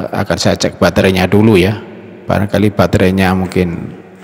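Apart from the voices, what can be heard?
None of the usual background noises is heard.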